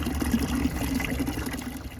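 Water splashes and trickles softly into a tray set out for pigs, a faint, continuous liquid sound without any voices.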